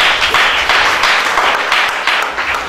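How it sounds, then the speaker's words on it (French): A church congregation claps and applauds for Jesus during a French-language sermon, steady dense clapping filling the room without pause. "Acclamons pour Jésus."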